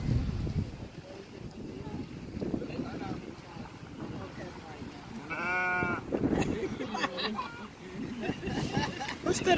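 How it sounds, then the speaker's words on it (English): Sheep bleating at an outdoor live nativity scene, a wavering bleat rising clearly in the middle amid background chatter, wind and scattered crowd noise. "I guess that's a sheep, I guess."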